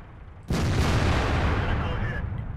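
A tank cannon shot in World of Tanks rings out suddenly and loud, a single heavy boom whose rumbling tail sustains for about two seconds amid ongoing battle noise.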